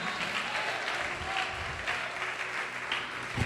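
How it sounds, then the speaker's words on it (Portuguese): A church congregation claps together during a Portuguese-language sermon, producing a continuous, dense wash of applause at moderate loudness throughout. "Pode aplaudir e glorificar."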